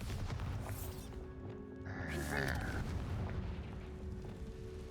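A Bombarda spell blast in Hogwarts Legacy, a low rumbling boom over dense game noise with a brief brighter burst midway.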